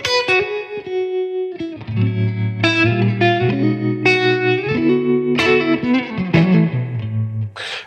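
Electric guitar chords through a tremolo effect and a 112 Deluxe amp with long-dwell spring reverb ring out with a pulsing, wavering volume, played close and clear, several strums in sequence.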